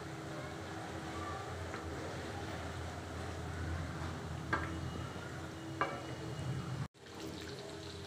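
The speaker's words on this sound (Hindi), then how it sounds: "अब हमने अपने चिकन को इसमें डाल दिया है, इसको 5 से 10 मिनट तक चलाकर पकाएंगे।" Chicken pieces stirred and frying in a pan for chicken changezi, a steady low sizzle and hiss with occasional scraping clicks from the stirring, close and continuous, briefly cut off near the end.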